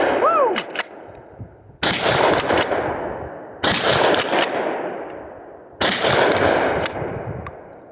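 Four loud, close blasts from an Ermox X-Pro T shotgun fired at targets outdoors, spaced about two seconds apart, each followed by a long fading echo, with a brief squeaky sound before the first shot.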